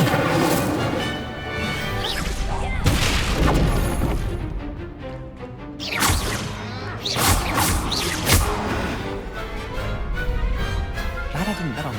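Incendio fire spell blasts in Hogwarts Legacy, repeated whooshing bursts and crashing impacts over a busy battle din, loud and close, with a voice speaking among them.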